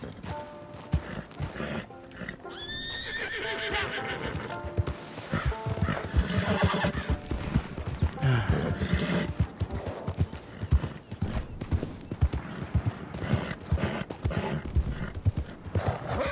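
Rhythmic clip-clop of a Red Dead Online horse's hooves trotting continuously, with the horse whinnying near the start; a faint bit of talk may sit underneath.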